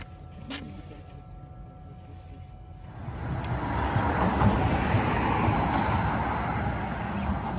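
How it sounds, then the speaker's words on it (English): Edinburgh tram from Newhaven pulling into the Port of Leith stop, a low rumbling roar that swells in after a quiet start and holds steady and fairly loud, with a faint high whine over it. "So here is the tram from Newhaven back to the airport."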